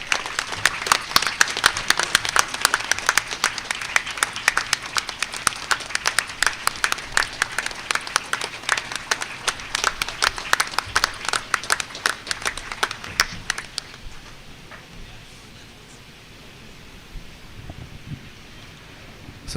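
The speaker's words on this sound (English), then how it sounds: "I want to give a continuous round of applause to him." An audience at a hospital rehab institute event gives a continuous round of applause, dense and sustained for about thirteen seconds before dying away into quiet room noise.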